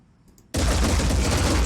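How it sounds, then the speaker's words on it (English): A Deceptor weapon in Phoenix Point fires after a moment of near silence, a loud, sustained roar of rapid gunfire filling the rest of the clip with no voices. "we'll just fire the Deceptor straight down"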